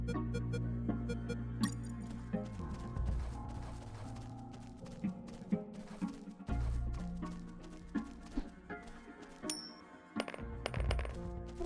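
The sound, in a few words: coin dropping on ground in video game UnMetal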